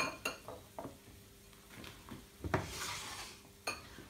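A utensil stirs sprouted alfalfa seeds together with cabbage and onion in a bowl, producing soft scraping and light clinks of metal against the dish, close and irregular.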